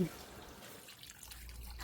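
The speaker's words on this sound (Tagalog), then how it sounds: "Pagkahalo, lagyan natin ng 5 cups ng tubig." Five cups of water poured into a pan of browned pork belly for kinamatisang baboy, a soft steady trickle and splash running under faint background noise for about two seconds.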